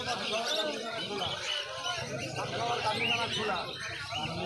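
Caged birds, including lovebirds, chirp and tweet continuously in a busy Kolkata street bird market, a dense layer of small calls close by with people talking throughout.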